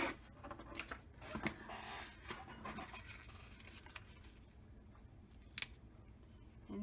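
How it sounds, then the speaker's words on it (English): Close, quiet snips of scissors trim a paper card, a series of small cuts and rustles of paper heard alone at low volume. "Now I need to trim this too."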